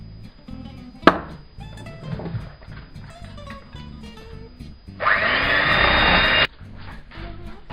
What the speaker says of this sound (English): And then you're just going to mix that into your cake mix.